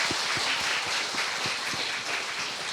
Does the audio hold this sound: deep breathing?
no